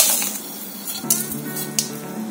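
Urad dal, chana dal and dried red chillies fry in hot oil with a soft crackling sizzle, punctuated by a few sharp clinks of a utensil against the pan.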